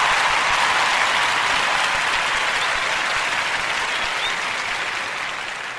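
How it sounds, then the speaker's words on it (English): An audience breaks into sustained applause, loud and dense, holding steady before tapering slightly toward the end, with no voices standing out above the clapping. "Let's give that a clap."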